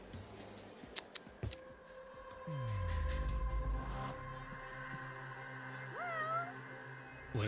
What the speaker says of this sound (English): I hear cat.